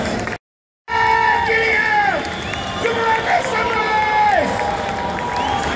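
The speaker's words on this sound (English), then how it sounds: "give Mike Headlessy a round of applause" Crowd at a professional deadlift competition cheering and clapping for a lifter, loud sustained shouts and whoops over applause after a brief cut of silence at the start.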